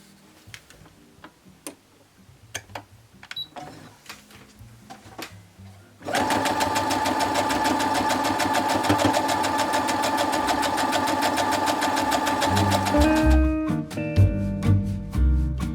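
A sewing machine stitching a quarter-inch quilt seam runs in one loud, steady whirring burst of rapid stitching for several seconds, preceded by faint handling clicks and followed by a slowing, ticking wind-down.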